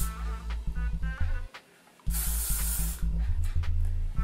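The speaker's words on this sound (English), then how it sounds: "This is just the L'Oreal Elnette Satin Hairspray, and just hold your hair up and spray." L'Oreal Elnette Satin hairspray misted onto lifted hair in one steady hissing burst of about a second, close and clear over a low background hum.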